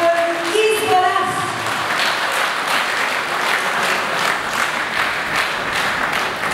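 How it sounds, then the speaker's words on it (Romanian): Lively audience applause at a Romanian cultural show greets a folk ensemble, loud and sustained with faint tonal music fading out at the start and a murmur of voices underneath. "Aplauze."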